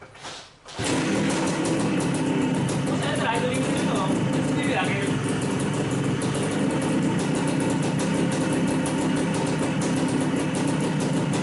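Yamaha TS185ER motorcycle engine idles in a steady, close, continuous rumble that starts abruptly and holds an even rhythm throughout.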